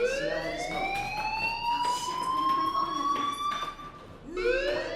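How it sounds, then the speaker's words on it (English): A loud electronic fire alarm in the game Life is Strange wails continuously in rising and falling sweeps, briefly dipping before starting a new cycle, with faint clattering beneath. "Hey, do you hear that fire alarm?"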